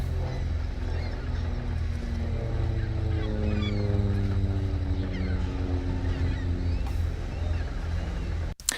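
An airplane passing overhead in an outdoor field recording, a low droning rumble whose tone slides steadily downward in pitch as it goes by, with faint bird calls in the background and a sharp click at the end.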